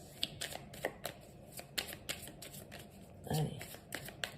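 Tarot cards being shuffled and laid down in quick, soft, papery bursts, repeated throughout and close by, with one fuller rustle near the end; someone speaks over the handling.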